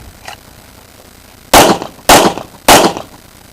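Three loud, sharp pistol shots ring out at an IDPA qualifier on an outdoor range, evenly spaced about half a second apart after a quiet lead-in, each with a short echoing tail.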